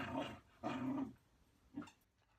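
A puppy giving short growling barks, two close rough bursts followed by a softer yip after a pause, fairly quiet with no talking.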